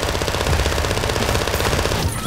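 Rapid, steady automatic gunfire from a video game shooter, a loud continuous stream of closely spaced shots that runs nearly the whole time before cutting off at the end.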